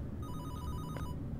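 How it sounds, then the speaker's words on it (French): A telephone ringing inside a video game, set in a police station, gives a steady electronic ring with harmonic tones for about a second and stands alone over a low background hum. "Téléphone."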